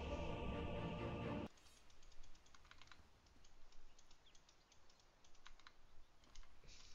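Computer keyboard typing comes through as scattered, irregular clacks of keys, fairly close but soft, following a brief louder burst of other sound at the start, with no talking.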